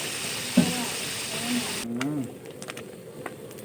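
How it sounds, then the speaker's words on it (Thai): Oily sizzling and crackling of red-tailed tinfoil barb fish frying in a pan on a raft, with a clatter early on and a few scattered clicks later, steady and close. "กับทอดปลาตะเพียนหางแดง"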